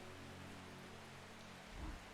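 Steady soft rainfall in the cozy shop of Strange Horticulture, a faint continuous patter with a low hum beneath and a brief slightly louder swell near the end.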